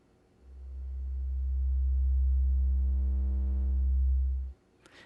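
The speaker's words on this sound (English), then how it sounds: "So this is the sine, which is a little harder to hear." A pure, low synthesized sine wave tone swells in, holds steady for about four seconds, then cuts off abruptly, leaving near silence.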